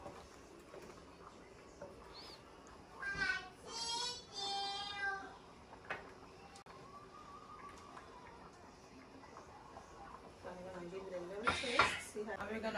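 A lid clanks onto a pot of simmering catfish pepper soup with plantain, giving a few sharp metallic knocks near the start and again near the end over a steady low kitchen background.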